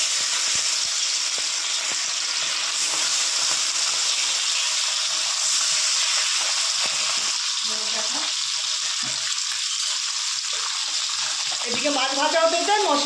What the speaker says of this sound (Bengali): তেল আমার ভালো মতো গরম হয়ে গেছে। এবার এক এক করে মাছগুলো ভেজে নেব।